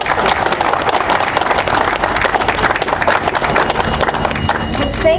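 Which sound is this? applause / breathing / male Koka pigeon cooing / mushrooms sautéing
applause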